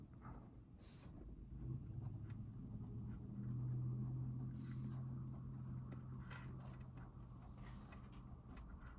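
A piston fountain pen scratches across paper in a faint, steady scribble over a low background hum, with light tapping and rustling mixed in.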